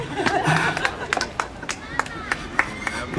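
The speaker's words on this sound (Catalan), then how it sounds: "Espera, que hay alguien que está aplaudiendo." Scattered claps from someone in an audience at a Catalan political rally, sharp irregular bursts over a murmuring crowd.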